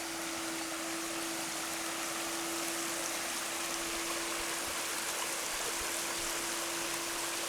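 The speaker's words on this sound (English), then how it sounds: "And the river over here." A river flows steadily through Kilmory woods on the Isle of Arran, a continuous broadband rush of running water with a faint steady hum beneath it, heard alone throughout.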